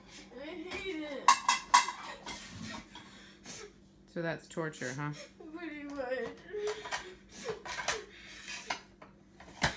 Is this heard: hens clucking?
no